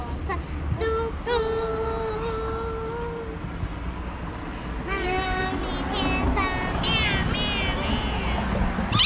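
A cat meowing repeatedly at close range, drawn-out cries that come in two bursts over steady background noise.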